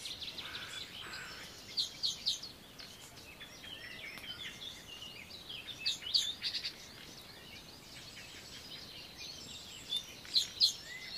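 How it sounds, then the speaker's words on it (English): Quiet outdoor air broken by short bursts of high chirping birdsong at intervals, moderately distant. "wherever you are, there are some birds nearby"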